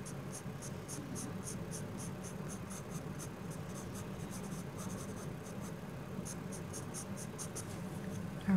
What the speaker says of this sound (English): I'm going to take my HB to erase a few lines